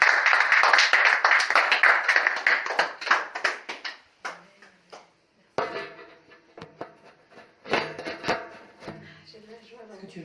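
Congregation clapping in a Paris house church after a baptism, dense rapid applause for several seconds that thins into scattered claps, with voices talking over the quieter end.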